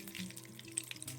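Bay leaf, whole garam masala, green cardamom and cloves sizzle in oil and ghee, a faint, steady light crackle with a few small pops, no voices.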